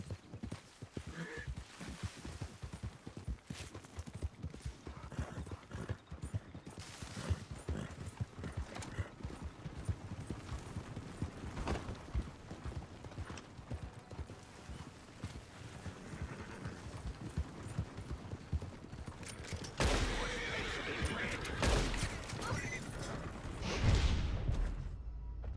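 Horse hooves in Red Dead Online clip-clop in a steady rhythm at a fairly soft level, with an occasional whinny, and grow louder and busier toward the end.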